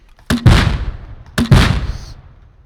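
Two heavy grenade-launcher explosions in the game Rust, each a sharp loud blast followed by a rumbling decay, spaced about a second apart with no talk over them.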